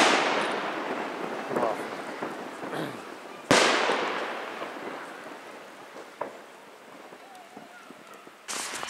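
Fireworks salute display set off for a February 23 celebration, heard close by: two loud booming bursts a few seconds apart, each trailing into a long crackling, hissing decay, with a sharper pop near the end and faint voices in the background.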